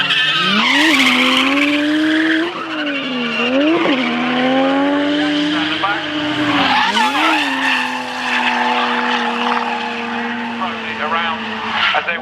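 Drifting cars at Castle Combe circuit, tires squealing in long sustained howls over loud engine roar, with rising and falling pitch sweeps as the cars slide through corners; a commentator talks over the noise.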